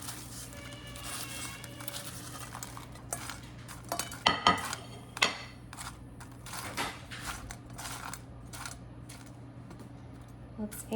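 Crispy fried French fries piled onto a plate, light clinks of utensils and dishware with scattered scraping and a few sharper knocks near the middle, fairly quiet over low background hum.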